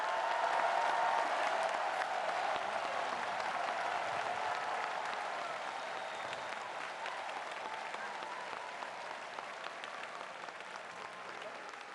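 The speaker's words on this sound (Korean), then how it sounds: "다시 한번 윤석열 대통령께 뜨거운 감사의 큰 박수를 보내주시기 바랍니다." Crowd applause at the opening ceremony of a national sports festival in Ulsan fills a large outdoor venue, a broad, steady clapping that gradually fades, heard from a distance.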